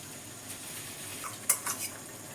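A spoon stirs and fries spices with onion and tomato paste in a pan over low heat. Quiet scraping and a few sharp metallic taps of the spoon against the pan sound over a faint background hiss.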